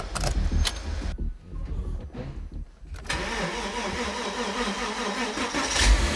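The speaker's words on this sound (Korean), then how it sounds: "일발 시동 우!" A used Mercedes car engine cranks with a rough whir, then catches on the first try and settles into a loud, steady close-up idle that runs to the end, with no speech.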